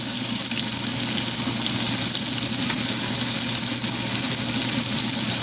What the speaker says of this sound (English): We put in a little bit of olive oil, and then we'll add the mirepoix.